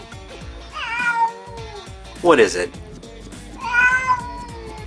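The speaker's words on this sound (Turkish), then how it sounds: "Kediler sadece insanlara miyavlar." A house cat meows several times, close and clear, drawn-out rising and falling calls, with a person briefly talking between them.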